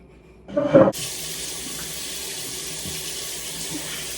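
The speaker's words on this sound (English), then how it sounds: "wash your hands" A kitchen tap opens after a brief clatter and water runs steadily and loudly into the sink for handwashing while scones are being made, a continuous close hiss with no talking.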